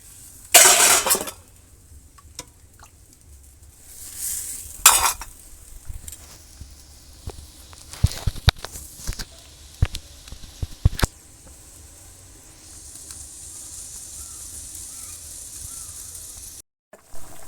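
Curry broth comes to a boil in a pot in a village kitchen during an egg curry, with scattered clicks and bubbling pops, then a steady soft hiss near the end.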